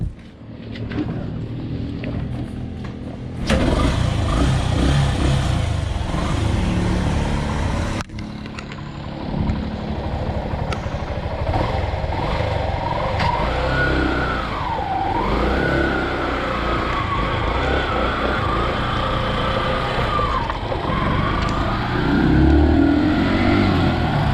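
A Yamaha YTX 125 motorcycle with a CDI problem, its engine catching after a quiet start and then running loud with revs rising and falling, close by.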